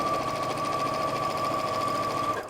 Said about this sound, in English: I'm going to fold it in half and then just sew down one side